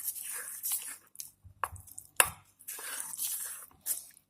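Mango cake batter made with milk is mixed in a bowl, with wet, squishy stirring strokes, soft sloshes and a couple of sharp taps from the utensil against the bowl, all close and fairly quiet.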